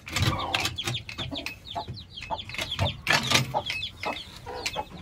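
A broody hen clucks repeatedly at close range among her chicks, whose sharp high peeps overlap the low clucks in an irregular, busy rhythm.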